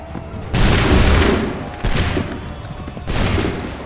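Three loud musket volleys ring out in an Assassin's Creed 3 battle, each a sharp, massed burst of simultaneous shots that rolls and echoes before fading, spaced roughly a second and a half apart.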